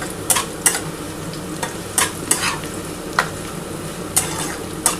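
Pieces of raw catla fish fry in a pan with a close, continuous sizzle, broken by sharp spattering pops and crackles at irregular intervals.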